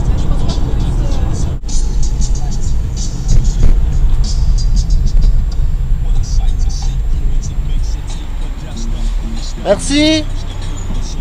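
A car speeds up on a highway, a steady cabin rumble of engine and road noise with a rising whine near the end, while people talk quietly over it.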